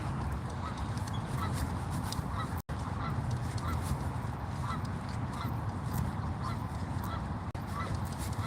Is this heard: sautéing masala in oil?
no